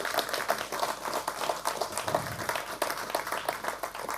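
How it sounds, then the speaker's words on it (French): Steady applause from an audience greets an award winner at a safety competition prize ceremony, a moderate, even patter of many hands clapping throughout. "Et on peut l'applaudir."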